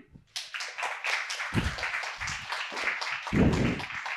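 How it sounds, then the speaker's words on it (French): Small live audience at a fan event clapping for a guest, scattered individual handclaps forming light applause, with a couple of low thumps mixed in. "on l'applaudit."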